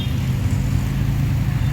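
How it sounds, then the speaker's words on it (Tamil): Heavy road traffic near a snake park, cars and motorcycles blending into a constant, dense rumble and hiss with no single vehicle standing out. "இப்போ நம்ம பயங்கர டிராஃபிக்காக இருக்கீங்க"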